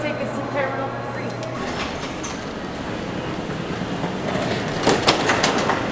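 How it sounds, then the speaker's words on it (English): An airport shuttle train bound for Terminal 3 in Las Vegas rolls along with a steady rumble and clattering wheels, loud and close, with people talking over it. "We found the train. It's going to take us to Terminal"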